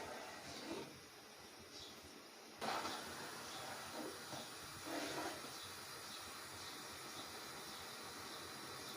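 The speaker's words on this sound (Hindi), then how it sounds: "अब चावल के लिए चाश उबल रही है।" Jaggery syrup boils in a pot for sweet rice, giving a soft, steady bubbling hiss close by with a few louder surges and no voices.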